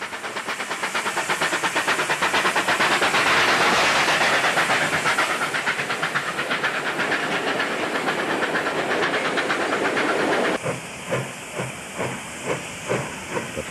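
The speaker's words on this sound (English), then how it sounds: "'38-07 has steam to spare with number 34 mixed Lithgow bound at Bloomfield." A New South Wales steam locomotive, 38 class 3807, works hard with a mixed train near Bloomfield, giving a loud steady roar of hissing steam and rapid exhaust beats, then clearer separate chuffs in the last few seconds.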